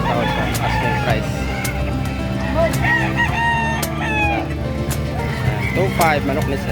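Roosters crow repeatedly and chickens cluck in a busy livestock market in San Carlos City, Pangasinan, the calls overlapping against a steady crowd murmur with people talking throughout.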